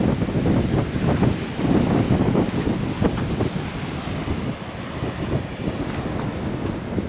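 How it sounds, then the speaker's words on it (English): Heavy wind roars steadily over the microphone during a Harley-Davidson ride along the Pacific Coast Highway in California, a loud continuous buffeting rush with no voices. "don't know if you can hear it because of the wind"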